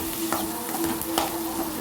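Mashed boiled potato being stirred into a sizzling mutton cutlet mixture in a pan, with a steady fry hiss and a few scraping stir strokes up close.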